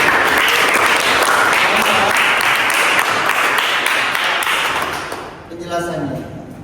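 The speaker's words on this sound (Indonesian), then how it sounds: "Beri tepuk tangan untuk kami" Classroom applause, a brisk burst of many hands clapping close and loud that fades out near the end, followed by a short spoken voice.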